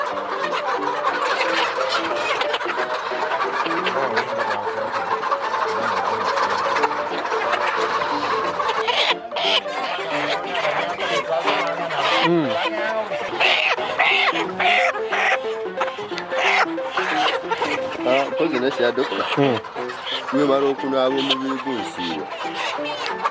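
Farm chickens cluck and squawk close by in a poultry setting during vaccination, with repeated rooster-like calls and busy clucking, while people talk over the birds throughout.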